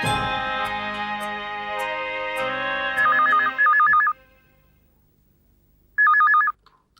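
A telephone rings in a TV serial scene: a musical ringtone melody plays over a sustained tone, then an electronic trilling ring pulses in short bursts, pauses, and trills once more.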